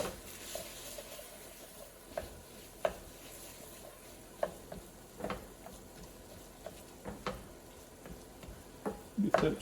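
A spoon scrapes and clacks against a pot while game-day chili is stirred, giving soft irregular knocks and scrapes at a close, moderate level over a quiet simmering background.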